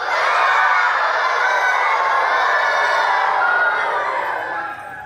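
Children chant together in a loud, continuous group voice, imitating a rooster's crowing in one sustained, bright call that fades slightly at the end.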